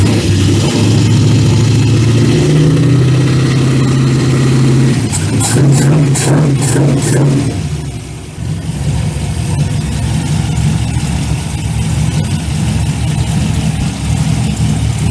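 A car engine fitted with a homemade exhaust cranks, fires and settles into a loud, rough idle close by, with a brief burst of revving partway through before dropping back to a steady rumble.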